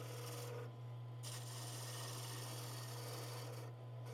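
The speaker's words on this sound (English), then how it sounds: "It's a planing cut with a skew chisel" A skew chisel takes a planing cut along spinning wood on a lathe, giving a steady close rasping hiss over a constant low motor hum, with brief lulls as the cut lifts.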